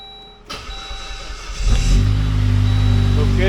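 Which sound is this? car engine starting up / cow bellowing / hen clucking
car engine starting up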